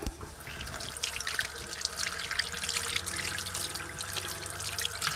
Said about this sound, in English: I go wash my hands.